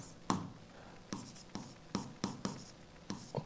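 Chalk tapping and scraping against a classroom board as a teacher writes out a science lesson on optics, a run of sharp knocks and short strokes, close and clear, with no talking.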